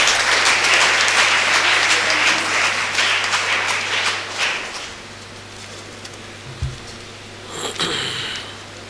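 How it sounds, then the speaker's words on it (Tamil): A hall applauds loudly to welcome a guest speaker at a school centenary celebration for Mannar D. Shanmugaraja at a higher secondary school; dense clapping fills the first half, then dies away, leaving scattered sounds and brief speech. "அவங்கள வந்து ஒரு பலத்த கரகோஷங்களோடு"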